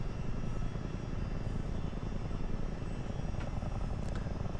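A CH-47 Chinook helicopter in Microsoft Flight Simulator, its steady rotor and engine roar droning loud and unbroken throughout.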